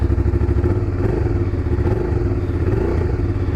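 A Suzuki SV650 motorcycle idles close by through a Leo Vince exhaust fitted with a db-killer. The engine pulses in a fast, loud, even rhythm with a mechanical clatter, and no voices are heard.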